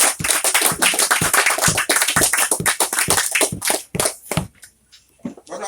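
An audience at a Yoruba World Congress secretariat opening in Ibadan applauds architect Akintoye, with dense, loud clapping from a hall of people that thins out toward the end into a few scattered claps.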